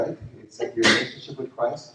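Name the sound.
sneeze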